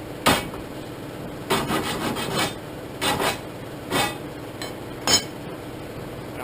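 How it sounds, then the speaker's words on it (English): A hand file rasps burrs off the cut edge of steel tubing: five short, close scraping strokes in separate bursts, with quiet gaps between them. "I'll take a file, get the burrs off the edge"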